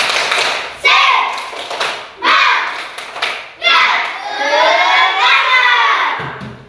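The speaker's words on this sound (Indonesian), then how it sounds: "mari kita tepuk semangat dulu. Tepuk semangat." Children in a class do a rhythmic spirit clap, loud bursts of hands in patterned groups, each set of claps followed by shouted chanting voices, with the phrases repeating in a steady call-and-response beat.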